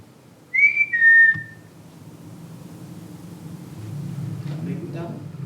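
A person whistles two short rising-then-steady notes, clear against a dim rumbling background at an old RAF Rivenhall airfield site, followed by low murmuring voices.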